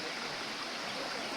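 A waterfall stream flowing on the Kudremukh trek in Karnataka, a steady broadband rush of water heard close and continuous, with no voices.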